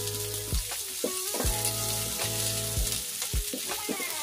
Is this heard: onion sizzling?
yes